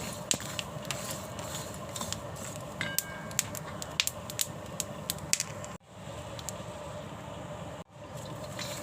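Peanuts dry-roast on a pan over medium gas, giving faint, scattered crackles and pops over a steady low background hiss.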